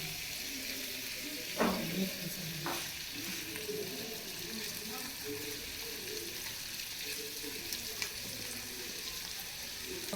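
Onions frying in a pan give a continuous, fairly quiet sizzle, with a couple of brief clinks early on.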